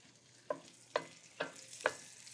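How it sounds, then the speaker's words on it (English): Sausage sizzles in a hot pan during home pasta cooking, with four distinct scraping or stirring strokes spaced about half a second apart over a steady frying hiss, close and clear with no talking. "I hear the sausage starting to sizzle a little bit."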